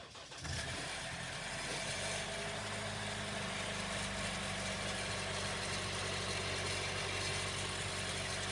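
A 2020 Jeep Wrangler Sport 4x4 with an automatic gearbox cranks briefly, catches and settles into a steady, loud idle that holds alone for several seconds, with a faint odd engine noise.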